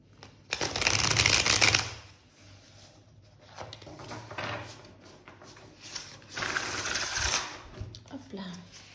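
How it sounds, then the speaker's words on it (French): Tarot cards are shuffled by hand in two loud bursts of riffling and rubbing, with quieter handling and shifting of the deck in between. "Allez, donc on va bien mélanger les cartes avant de commencer."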